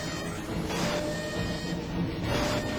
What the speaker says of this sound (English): Oh, stay ahead of the train.